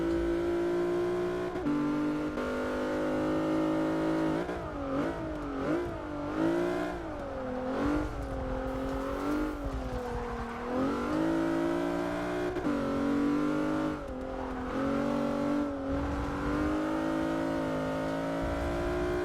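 A Plymouth Prowler's engine in the Forza 6 racing game revs and drones continuously, pitch rising and falling through gear changes and corners, loud and close with no talk.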